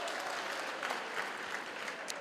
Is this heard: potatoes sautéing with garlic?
no